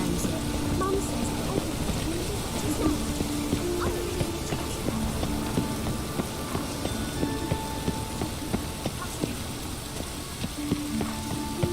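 Rain pours steadily in The Witcher 3, an unbroken hiss of droplets striking surfaces with scattered sharper drips throughout.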